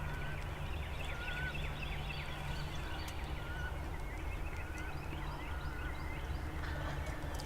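Wild turkeys gobble faintly in the distance in Georgia, short rattling calls repeating over a steady low outdoor hum.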